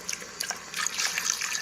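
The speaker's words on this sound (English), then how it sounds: "We're going to pour in" Beef broth pours and splashes softly into an Instant Pot for a moment, a brief trickling stream at low volume.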